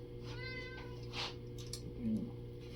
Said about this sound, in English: The cat name is Norbert, like the dragon from Hagrid.